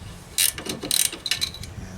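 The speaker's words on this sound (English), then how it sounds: "with a small wrench in the middle" Small wrench ratcheting on a sway bar link nut of a 2008-2013 Chevrolet Malibu, giving a few close, bright clicking bursts in quick uneven succession over quiet shop background.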